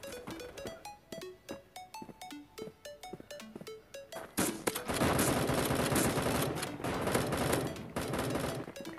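Gunfire in the first-person shooter Bullet Force, team deathmatch: rapid single shots cracking in quick succession, then a dense, loud burst of continuous automatic fire that sustains for several seconds, close and dominant. No talking.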